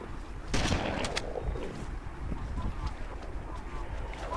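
Explosion and gunfire in the first-person shooter Halo: a sharp blast near the start, then a couple of quick bright shots and scattered pops over a steady rumbling game backdrop.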